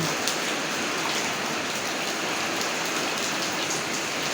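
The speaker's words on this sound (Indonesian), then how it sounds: "Ini hujan cuacanya" Steady rain falling outdoors beside a fish pond built from hebel blocks, a dense, even hiss of drops on surfaces that holds constant throughout with no talking.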